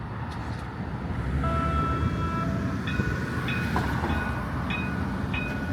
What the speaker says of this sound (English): There's the Line 6 Finch West LRT train.